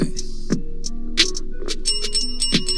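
A bell sound effect rings out in a quick series of bright, short chimes, some struck singly and some clustered close together, loud and up front with no talking over it.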